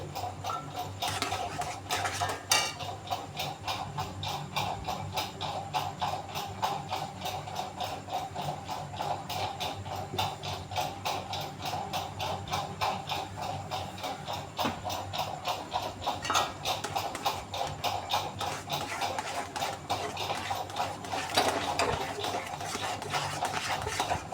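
Milk kheer is stirred continuously in a pot, producing a steady rhythmic ticking scrape of a spoon against the pot, close and even throughout, with a low hum beneath and no voices.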